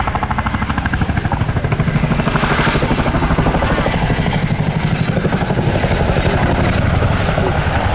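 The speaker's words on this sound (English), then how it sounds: "Get ready to hit the Chinook's iconic blade slap." A loud, close Royal Air Force Boeing Chinook HC.6 helicopter at an air show beats with a rapid, rhythmic blade slap over a deep engine roar, constant throughout.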